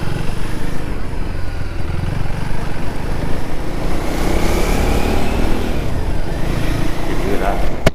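A 2024 KTM Duke 390 motorcycle rides along the road, its engine a steady close drone mixed with heavy wind rush, the pitch rising slightly partway through, with no talk over it.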